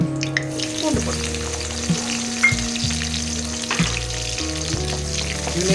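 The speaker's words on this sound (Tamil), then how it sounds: "ஆயில் ஊற்றியாச்சு, காயிட்டோம். பூண்டு போட்டுக்கலாங்க." Garlic dropped into hot oil in a pan for a Tamil-style potato fry, sizzling loudly and steadily up close, with a few stirring clinks and scrapes through it.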